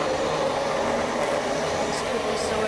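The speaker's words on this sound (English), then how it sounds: "blend it a few more seconds" A kitchen blender whirs continuously as it mixes honey peanut sauce for Lao cuisine, a loud, steady motor roar held close for a few seconds.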